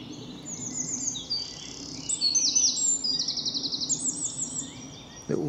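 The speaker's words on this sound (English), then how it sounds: "Little Wren" A wren sings outdoors along a road, a long, loud, rapid trilling song over steady background rumble, with a short thump near the end.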